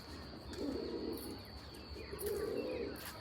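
Pigeons cooing inside a loft, two soft low coo phrases heard close together against a quiet background hum.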